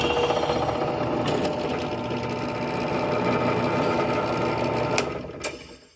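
A power drill bores out the clutch keyway on a go-kart, a loud continuous whine running for several seconds with faint metallic clicks, then slowing and fading at the end.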